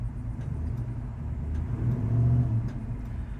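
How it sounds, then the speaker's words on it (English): A 1972 Oldsmobile 442 idles at a red light, a steady low rumble that swells briefly midway, heard close and alone. "Car idles real nice."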